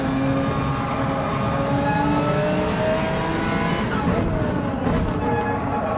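An Audi R8 Evo GT3 race car in a racing video game accelerates hard, its engine a loud, steady, rising whine that holds close and constant throughout.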